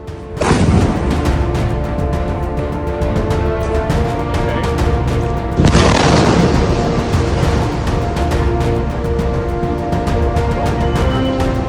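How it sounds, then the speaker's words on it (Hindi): Bombs explode during the Israel–Iran war. Two sudden, heavy blasts, one at the start and one about five seconds later, each trail into a sustained loud rumble, with no voices. "बमों की बारिश से धरती कांप उठी है।"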